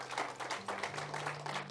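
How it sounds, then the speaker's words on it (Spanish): A church congregation applauds during a sermon, steady overlapping claps from many people at a distance, fairly faint, with a low hum underneath. "Usted le quiere dar un aplauso a Cristo por ello."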